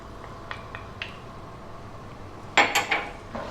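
Star anise, ginger and garlic being stirred in a hot wok: faint, sparse metallic scrapes and taps, then a brighter cluster of clinking strokes against the pan, with no talking.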